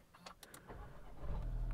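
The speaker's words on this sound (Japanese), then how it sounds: "エンジン始動します" Volkswagen Polo TSI R-Line started from the driver's seat by push button, with a few short clicks and chimes followed by the engine catching and settling into a low idle rumble.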